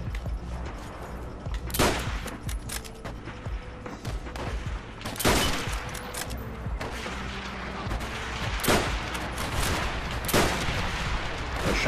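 Gunfire in the Call of Duty WWII video game: repeated shots and bursts with several sharp, loud blasts spread across a busy, dense battle soundscape.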